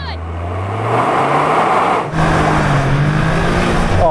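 A Toyota GR Yaris automatic launches hard in a drag race, its engine roaring loud and close, revving up, pausing briefly for a gearshift, then climbing again with a faint voice underneath.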